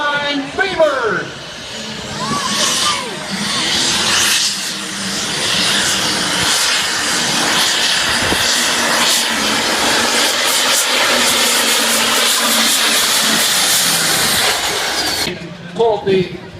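A diesel pulling tractor roars at full throttle during a tractor pull, a loud sustained engine howl with rising pitch, and an announcer's voice is heard over it at the start and end.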